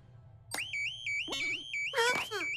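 Loud electronic alarm in an animated spy cartoon episode, sounding in repeated warbling tones with a rising sweep near the end, close and dominating.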